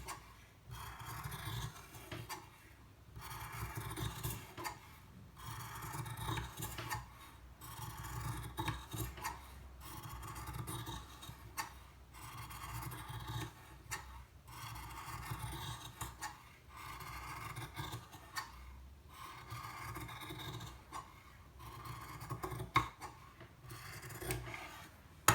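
Scissors cut through cotton fabric for a washable face mask, a steady run of close rasping snips and rubbing strokes repeating in short bursts with brief pauses between them.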